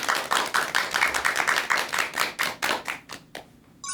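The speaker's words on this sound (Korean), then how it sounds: "여러분 큰 박수 부탁드립니다." A Korean lecture audience claps to welcome the speaker to a mindfulness meditation talk, a close burst of many hands in quick rhythmic clapping that thins and fades out after about three seconds, with no talk.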